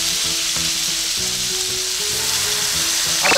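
Potato steaks sizzle loudly in a pan as a sweet soy-mirin sauce coats them, a dense, even frying hiss close by.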